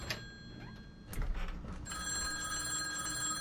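A telephone rings in the Insomnia horror video game with a bright, repeated electronic bell and a distinct burst partway through, set over a low, quiet room hum with no talking.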